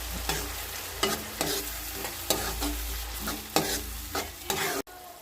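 A spoon scrapes and stirs tomato paste into fried onions for a Telugu-style tuna curry, regular scraping strokes roughly once a second over a steady sizzle, close and fairly loud.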